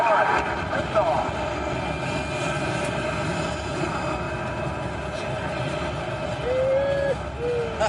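A simulated rocket launch on the EPCOT Mission Space ride at Walt Disney World, a steady low rumbling roar filling the cabin under voices and announcements.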